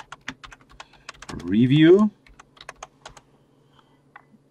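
Quick keystrokes on a computer keyboard click in an irregular patter close by, interrupted midway by a brief spoken word.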